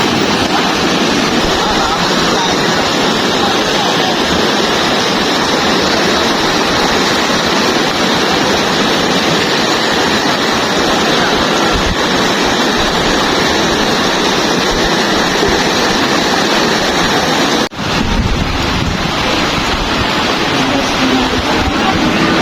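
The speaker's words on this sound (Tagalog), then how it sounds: "Grabe ang agos oh." Rushing floodwater surges past on a flooded street with stranded motorists, a loud continuous roar with wind noise on the microphone, close and unbroken for the whole stretch.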